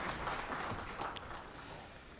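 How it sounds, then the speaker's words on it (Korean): A church congregation at a Wednesday worship service in Daegu applauds, with quiet, distant clapping that is dense at first and slowly fades. "하나님께 영광의 박수 올려드리도록 하겠습니다."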